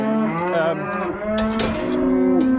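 Cattle on a farm, including young heifers being sorted, moo in long, loud, drawn-out calls close by, with one call overlapping the next and no talk.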